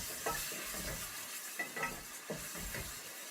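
Tomatoes and fresh chilies cooking in a pan for aloo gobi, heard as a soft, quiet sizzle broken by several short bursts of stirring and scraping, with no talking.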